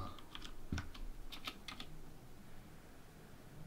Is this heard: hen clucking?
no